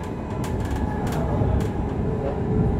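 A London Overground Aventra class 710 electric train running, heard from inside the carriage as a steady loud rumble with rhythmic clicks of wheels over rail joints.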